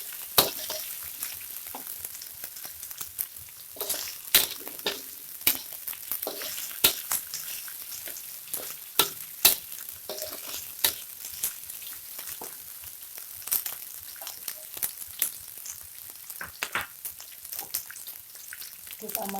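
Water spinach and sliced spring onion sizzling and frying in a pan, with steady crackle and scattered clicks of stirring, close and moderate in level.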